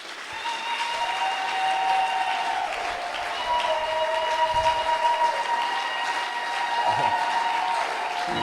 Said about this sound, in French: applaudissez le Seigneur que je le vois